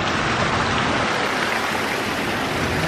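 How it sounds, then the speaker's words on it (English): A waterfall at a Florida hotel entrance roars as a loud, steady, broadband wash of falling water, close and continuous with no talk over it. "Got this lovely waterfall out front."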